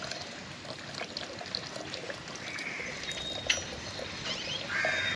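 Birds calling in the early morning after rain, with pigeons nearby: scattered faint chirps and a few brief, higher calls over a soft, steady wash of outdoor background noise.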